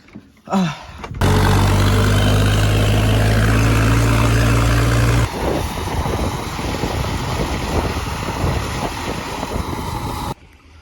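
A Holland tractor engine runs on a farm, a loud, steady low drone with a strong hum for several seconds before the tone shifts into rougher rumbling, heavily buffeted by wind noise throughout.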